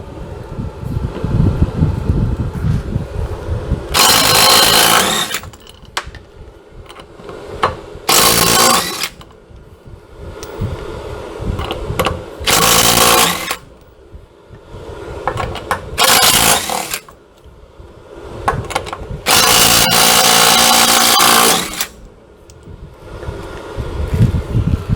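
A power tool, likely an impact wrench, removing the wheel from a 1966 Chevy, heard as several loud, broadband bursts of a few seconds each, separated by quieter shop noise and clanks.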